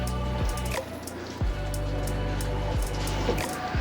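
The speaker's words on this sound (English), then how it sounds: "The water's dripping down and through there, through the stone." Water drips through cracked stone inside a castle ruin, irregular distinct plinks every half second or so over a low steady background hum, close and fairly quiet.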